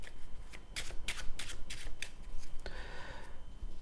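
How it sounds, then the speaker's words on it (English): Playing cards are riffled in several quick rapid bursts, close and crisp, followed by a longer ruffling shuffle. "Now John, could you shuffle these cards? Mix them up."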